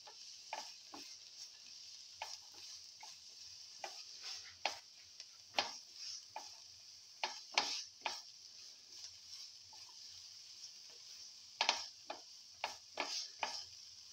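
Garlic, onion and ginger pieces sautéing in a pan, heard as a faint, steady sizzle broken by frequent sharp clicks and scrapes of a spatula stirring at an uneven rhythm, close by with no talking.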